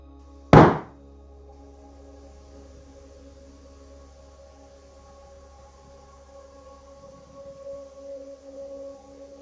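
A single sharp wooden strike of a Zen stick during meditation rings out near the start, followed by a long quiet stretch with faint room noise.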